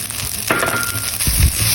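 Salmon fries in a hot pan, a steady sizzle broken by sharp crackling pops as the fish goes in and settles, loud and close with no talk.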